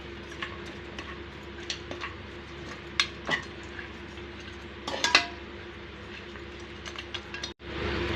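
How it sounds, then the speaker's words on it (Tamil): Mutton with oil, turmeric and rock salt is stirred and sautéed in a pressure cooker. A spoon scrapes the metal pot with sporadic clinks and scrapes over a soft background hum. No one speaks. "நல்லா வதக்கிக்கலாங்க"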